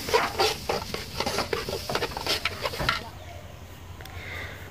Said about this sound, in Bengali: তো এখন আমি চালটা ঢেলে দিলাম, আর হচ্ছে নাড়াচাড়া করে আমি ভেজে নেব 2 থেকে 3 মিনিট।